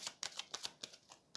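Tarot cards shuffled and cut in a few quick, crisp riffling bursts, close and fairly quiet, with no talk.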